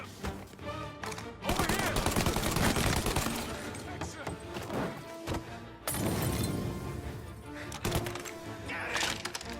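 Rapid gunfire bursts during a firefight in the video game Mafia Definitive Edition, crackling in dense volleys under shouted game dialogue, with a short lull between two heavy stretches.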